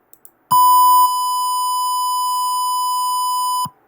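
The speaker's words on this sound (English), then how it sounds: "the buzzer start beeping" A single steady electronic buzzer tone from a simulated Arduino home security alarm triggered by a PIR motion sensor sounds loud and continuous for about three seconds after a brief click, then cuts off.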